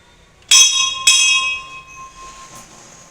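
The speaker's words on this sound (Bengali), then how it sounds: "এই ঘন্টাটা এখানে লাগানো হয়েছে" A small hand bell rung in a home shrine sounds two bright, close strikes about half a second apart, each leaving a clear metallic ring that slowly decays, with no voices.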